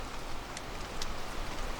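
Steady rain patters on a lean-to shelter at an autumn campsite, a dense, even hiss close by with a couple of sharper drips standing out, no voices.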